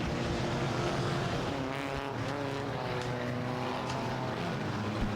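Four-cylinder race cars at the Star Speedway Enduro roar past with steady engine drone, revs rising and falling together as the field circulates at a moderate distance.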